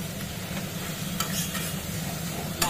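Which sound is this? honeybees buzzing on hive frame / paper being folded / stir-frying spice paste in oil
stir-frying spice paste in oil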